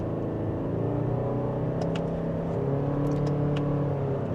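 A 2025 Lexus NX 450h hybrid in Sport S Plus mode accelerates gently in second gear, heard from inside the cabin as a steady engine whir and hum with faint clicks.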